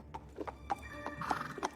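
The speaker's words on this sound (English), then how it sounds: "My horse became anxious." An anxious horse in a video game neighs and whinnies several times in short bursts between hoof clip-clops, quiet and fairly close, with no talk.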